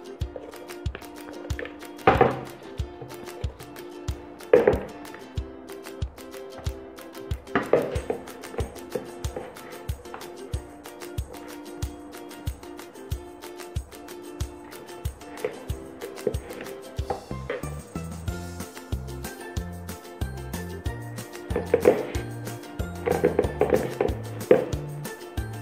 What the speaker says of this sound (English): So I'll start mixing the dough again